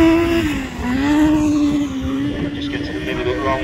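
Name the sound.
F600 race cars racing on track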